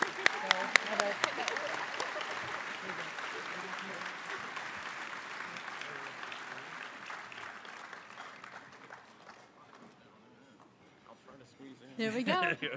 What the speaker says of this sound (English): please give a round of applause for the future of AFCEA and the 40 Under 40